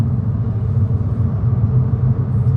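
A Kia Cerato 1.6 DPI running on LPG after conversion holds a steady low engine rumble, heard close and continuous with no talk.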